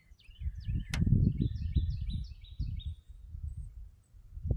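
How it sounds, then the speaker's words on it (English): Faint chirps and trills of songbirds sound in the distance at a cemetery above a low, rumbling rustle of wind or handling noise, with a sharp click early on. "Hear the birds singing in the distance."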